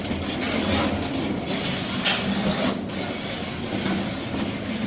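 Steady rumbling rattle of a mine cart rolling along rails in a small-scale gold mine, continuous and close, with a brief sharper clank near the middle.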